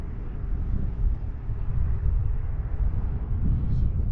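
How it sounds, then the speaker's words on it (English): Heavy wind buffets a GoPro Max microphone while riding a Onewheel, producing a continuous low rumbling roar that pulses slightly, loud and close, with no other clear sounds. "Now it's super windy all of a sudden."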